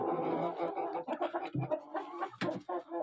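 Large hens, including big Kuchinsky Jubilee chickens, cluck in a busy, uneven series of short calls close by, with several birds overlapping and brief pauses between bursts.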